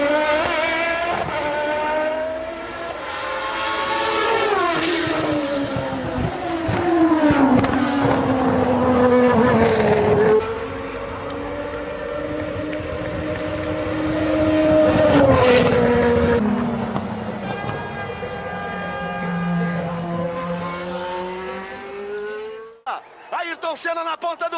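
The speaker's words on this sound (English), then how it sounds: "the sound of the V12 engine made many engineers and mechanics leave the pits" A high-revving V12 Formula 1 engine screams past, its pitch rising and falling through gear changes over a long stretch, with crowd and voices mixed in.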